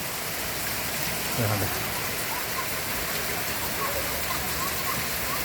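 A dense, steady hiss of heavy monsoon rain fills the whole stretch, constant and fairly loud with no pauses.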